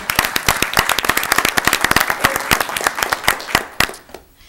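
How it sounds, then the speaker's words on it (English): Applause from a board of trustees meeting audience in the Village of Arlington Heights: a modest round of individual claps, fairly close, with distinct hand strikes that thin out and stop after about four seconds. "One more round of applause for her."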